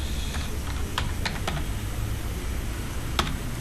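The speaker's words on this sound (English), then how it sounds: "I'm just going to type in" Several scattered keystrokes on a computer keyboard tap out a short entry, each click crisp and close over a low steady background hum, with no talking.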